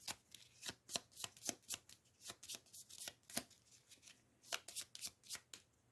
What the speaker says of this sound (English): Let's shuffle our event deck and draw 1.